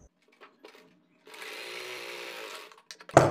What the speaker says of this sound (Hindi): यहाँ पर हमने अपनी एक पैर की सिलाई लगा दी है।